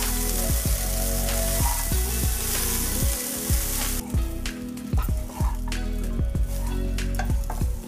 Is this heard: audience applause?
no